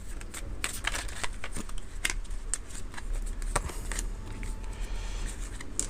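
Tarot cards riffle and slap as they are shuffled and drawn, a busy run of crisp papery flicks and taps close by over a low steady background hum, with no voice.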